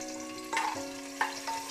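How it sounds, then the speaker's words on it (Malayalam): Garlic, ginger and green chili sauté in a pan for kappa biriyani, making a quiet, even sizzle with two brief bursts of stirring scrape over a faint steady hum. "അല്പസമയം ഒന്ന് വഴറ്റി കൊടുക്കണം."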